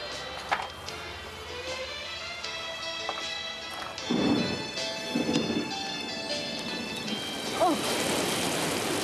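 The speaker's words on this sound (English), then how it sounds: "Can't paint in the rain." Steady rain patters on surfaces while deep thunder rumbles roll through twice in the middle and once more near the end, with the downpour continuing throughout.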